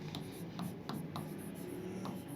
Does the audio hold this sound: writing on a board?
yes